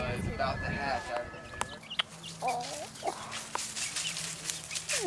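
Chickens cluck in short, scattered calls out in a permaculture homestead pasture, moderately close, with some low background rumble and a person talking briefly at the start.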